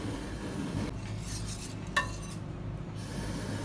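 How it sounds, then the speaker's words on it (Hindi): A spoon stirs vanilla custard powder into milk in a small cup, giving soft, quiet scraping and swirling with a brief clink of metal on the cup partway through. "वनीला कस्टर्ड लेके इसको हमने दूध में ना इसको इस तरह मिला लिया।"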